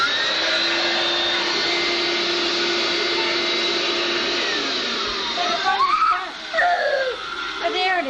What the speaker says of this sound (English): I could use the vacuum right now for that little spot